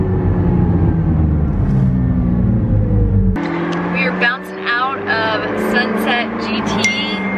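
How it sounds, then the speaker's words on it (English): A McLaren 675 LT sports car is driven, with a steady engine drone and harmonics for a few seconds. The engine then drops beneath people chatting inside. "Alex is driving us in the McLaren 675 LT"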